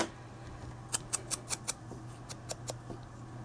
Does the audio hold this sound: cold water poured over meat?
no